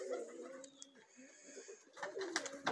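Domestic pigeons coo close by after being let out, soft repeated throaty calls overlapping, with a few light rustles.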